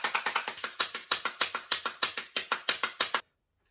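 A handheld percussion instrument is recorded up close in a home studio: a rapid run of sharp, evenly spaced ratcheting clicks, about seventeen strokes over three seconds, then it stops abruptly into silence.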